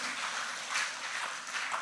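A church congregation applauds steadily in a reverberant hall, a soft even wash of many hands clapping at moderate distance with no voices over it.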